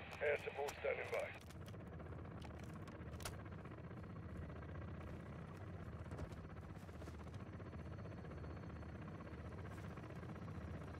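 Helicopter air support in the Ghost Recon video game, a steady rotor drone holding at an even level throughout after a brief burst of radio chatter at the start.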